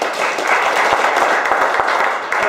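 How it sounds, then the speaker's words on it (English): A crowd applauding at a Tea Party meeting, many hands clapping steadily and loudly throughout, with no voices over it. "So let's give a quick applause for Keith."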